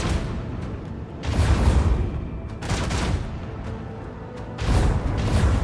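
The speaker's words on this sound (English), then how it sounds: "we're definitely in range of their macro cannons" Macro cannons fire in the Rogue Trader video game, coming as three heavy volleys of booming, rumbling blasts separated by short quieter gaps.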